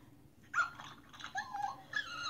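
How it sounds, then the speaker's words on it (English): A dog whimpers softly in a series of high, thin whines and yips, close by and fairly quiet, with short pauses between the plaintive cries. "Her dog."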